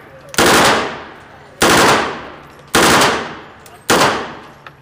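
An MP5 submachine gun fires four separate full-auto bursts at an outdoor shooting range, each burst loud and close with a ringing decay, separated by short pauses.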